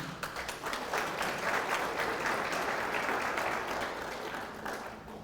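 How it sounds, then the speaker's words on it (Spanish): A church congregation applauds during a Spanish-language sermon, a dense, sustained wash of crowd clapping that swells and holds steady before easing slightly at the end, with no voices over it. "Denle un aplauso al Señor"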